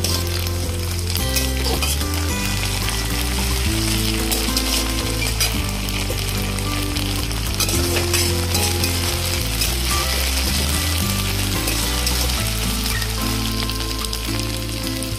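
Chopped onion browning in hot oil with a spoonful of ginger-garlic paste for masoor dal, giving a steady, loud sizzle that runs throughout beneath continuous background music.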